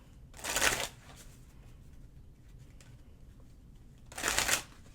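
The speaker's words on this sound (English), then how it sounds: "Let's pull a few oracle cards for you" Oracle cards are shuffled in two short riffling bursts, close and fairly soft, with near silence between them.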